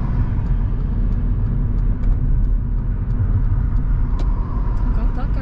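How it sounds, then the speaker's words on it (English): A silver car closes in fast along a dual carriageway, its steady road rumble and engine noise filling the scene loudly and continuously, heard from inside another vehicle with voices talking over it. "There's a silver car approaching quite fast and not adjusting their speed, so Sammy stays on the slip road"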